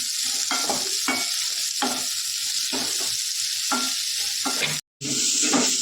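Onions sizzle steadily in a hot pan, with repeated scraping stirs every half second or so and a brief cut near the end.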